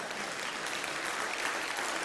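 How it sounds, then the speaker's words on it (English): An audience gives a round of applause during a lecture presentation, a dense, even patter of many hands clapping throughout with no pause. "So could I have another round of applause?"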